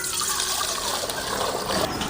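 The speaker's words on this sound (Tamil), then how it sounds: "ஒரு சொம்பு தண்ணி வச்சுக்கிறேன்" Water poured from a small vessel into a pot on the stove for a river dry fish curry, a steady close splashing and trickling pour that runs throughout with no talk.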